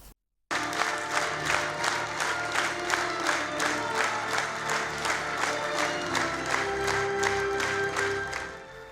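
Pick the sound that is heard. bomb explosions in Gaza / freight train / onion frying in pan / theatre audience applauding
theatre audience applauding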